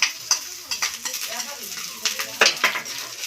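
Spices including green chilli, chilli powder, turmeric and salt are poured into a pan of frying fish and stirred, giving a soft sizzle under sharp scrapes and clinks of a spoon against the pan, close and irregular.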